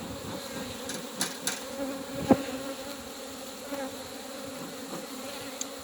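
Dense, steady buzzing of many honeybees close by at the hive, a continuous drone with a few sharp taps and clicks scattered through it.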